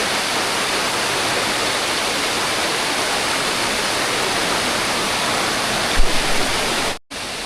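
Steady broadband rush of water flowing through a cave river, loud and continuous with no break, cutting out briefly near the end.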